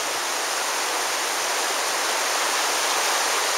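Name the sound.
river flowing through the Zion Narrows canyon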